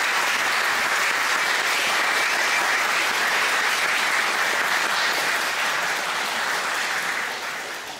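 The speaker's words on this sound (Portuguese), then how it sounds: "Uma salva de palmas." Sustained, dense applause from an audience at a lecture, loud and steady throughout before tapering slightly at the very end, with no talking over it.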